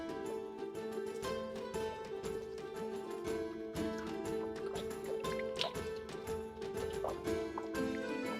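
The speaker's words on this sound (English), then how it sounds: "I think I hear some running water." Running water trickles and drips in a castle courtyard at Leeds Castle, a steady liquid patter that continues throughout beneath sustained musical tones, moderately quiet and with no talking.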